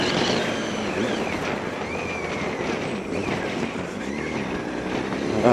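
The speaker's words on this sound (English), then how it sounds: "We got a really windy day today." Steady wind roars and buffets the microphone throughout on the Isle of Man, a constant outdoor rush with occasional gusts and no clear speech.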